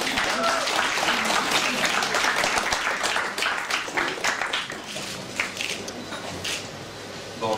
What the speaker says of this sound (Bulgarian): И сега вашите аплодисменти за патрона на фестивала Димитър Николов.